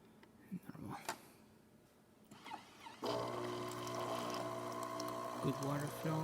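A Jura Impressa J9 coffee machine, just serviced, starts with a few clicks and knocks, then its pump kicks in with a steady humming whine as hot water flows continuously from the spout.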